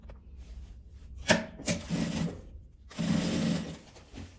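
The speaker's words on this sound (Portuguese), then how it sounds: "Eu vou costurar cobrindo essa costura." A sewing machine runs in short bursts, stitching over an existing seam on nylon fabric with a bias binding, close and moderately quiet, with pauses between runs and no speech.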